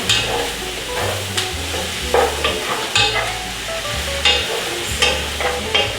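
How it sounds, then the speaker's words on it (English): Vegetables for a hearty stew stir and sizzle in oil, a steady frying hiss broken by repeated scraping, clattering strokes of a utensil against the pot, close and fairly loud with no talking. "Gonna give this a nice mix and coat it with our oil."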